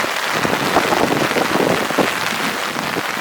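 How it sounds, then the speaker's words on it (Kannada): Steady rain pours down at Manchi waterfall, a dense, even hiss of drops striking water and rock that holds close and constant throughout, with no voices. "ಇಲ್ಲಿ ಮಳೆ ಸಹ ಬರ್ತುಂಟು"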